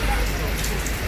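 Heavy rain pours down at an outdoor market stall, a dense, loud and continuous hiss of drops hitting surfaces with no break in the downpour.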